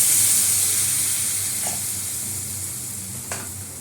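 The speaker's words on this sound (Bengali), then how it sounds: "আমার মশলা কষানো হয়ে গেছে, আমি এই যে জলটাকে দিয়ে দিলাম," Sautéed spice masala sizzles loudly right after water is poured in, then the hiss slowly fades and softens, with a couple of faint stirring scrapes and no talk.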